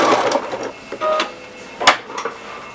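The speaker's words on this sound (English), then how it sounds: "you're going to zigzag very close to the edge all the way around" A sewing machine zigzag stitching around the edge of a fabric facial pad, heard as short mechanical whirring runs broken by clicks and taps at close range.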